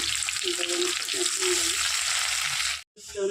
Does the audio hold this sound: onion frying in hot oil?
yes